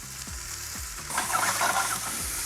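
Tofu sizzles in a pan with a ginger-garlic sauce as it is stirred, a few scraping strokes followed by a louder burst of frying hiss, close and without talk.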